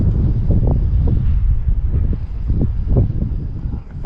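Strong outdoor wind roars and buffets the microphone steadily while an SBACH 950mm stunt slow flyer model plane is flown, a loud continuous low rumble with gusty surges.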